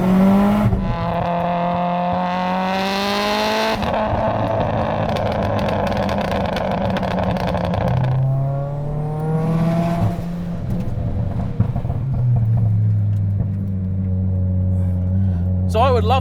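A 600-horsepower Mitsubishi Evo X engine pulls hard on a mountain road, its note rising and falling through repeated gear changes, loud and close with a steady drone between shifts.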